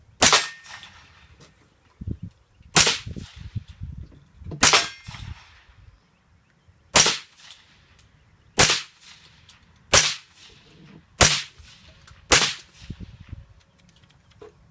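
A Keltec CMR 30 rifle in .22 WMR fires nine sharp, loud single shots spaced one to two seconds apart, each with a short echoing tail and quiet gaps between.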